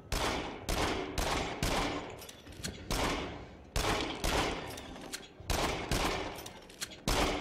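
Repeated bursts of gunfire in the VR shooter Until Dawn: Rush of Blood, about ten loud separate volleys, each with a sharp attack that decays over half a second, coming in a steady, almost rhythmic string with no talk.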